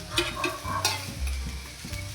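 Coconut roasts dry in a hot kadhai, stirred with a spatula, a continuous close sizzling crackle broken by quick scraping strokes against the pan.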